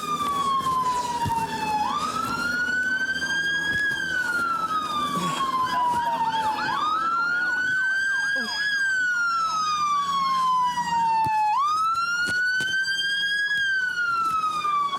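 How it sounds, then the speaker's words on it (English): A loud police car siren wails continuously, its pitch sweeping up and down in slow repeating cycles, close by. "Get my siren, bro."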